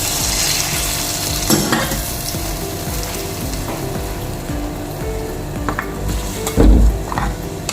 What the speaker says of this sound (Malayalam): ഇതിലേക്ക് നല്ല ചൂടുള്ള ഒരു അര ഗ്ലാസ് ചൂടുവെള്ളം ഒഴിച്ചു കൊടുക്കാം